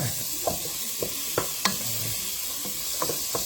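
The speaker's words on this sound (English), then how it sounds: "once you get your onions in there, just let them sweat for a minute" Onions, carrots, peppers and garlic sweating in a pan for a beef and bean soup, a steady soft sizzle broken by a few sharp scrapes and clinks of a utensil stirring through the vegetables.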